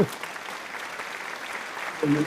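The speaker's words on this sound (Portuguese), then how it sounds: "Quero aplausos, produção, quero aplausos." A studio audience on a Brazilian talk show breaks into brief applause, a dense wash of clapping that fills the moment before a voice cuts back in at the end.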